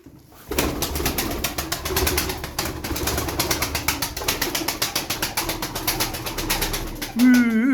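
A pigeon, one of a group of fancy coop birds, cooing close up in a long series of rapid, rhythmic pulses, with a louder voice cutting in at the very end.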